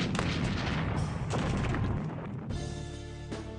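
A cannon fires at a heavy log fort in the Old West, round after round: a few loud, booming blasts spaced about a second apart, each ringing out before the next.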